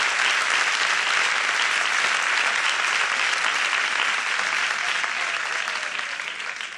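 Sustained audience applause at a Spanish-language stand-up comedy show, a dense, loud wash of many hands clapping steadily, easing slightly toward the end.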